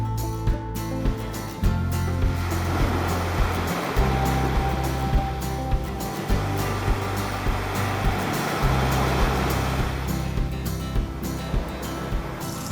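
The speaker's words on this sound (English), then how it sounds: "So you can hear the pump going because I'm emptying the water tanks" Electric pump draining dirty water tanks, a steady loud churning rumble with rushing water and a faint rhythmic pulsing throughout, no voices.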